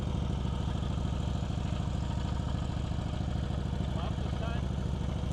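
A motorcycle engine chugs steadily at low speed under light throttle during slow-speed riding drills around cones, a dense rumble close by with some clatter.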